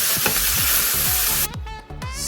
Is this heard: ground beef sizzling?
yes